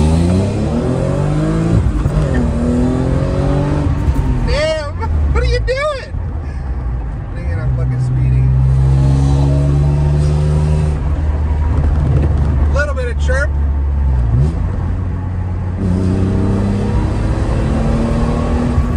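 A 300,000-mile Techno Violet BMW M3 accelerates hard from first gear, its engine roaring loud and close and climbing in pitch through the gears, with people talking over it.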